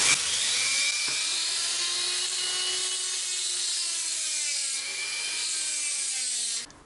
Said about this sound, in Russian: эти винтики я просто высверливаю хорошим качественным сверлом и обычной дрелью